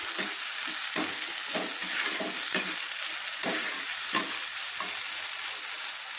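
Tomato paste sautéed in a pan, a continuous close sizzle punctuated by regular scraping stir strokes roughly every second, with no voices.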